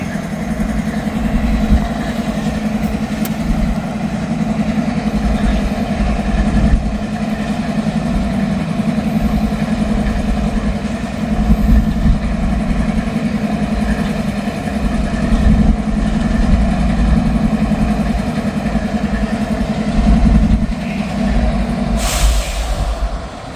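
A vehicle engine idles steadily at a traffic light on a warm November day in farm country, a continuous low rumble holding fairly loud and constant throughout with no voices.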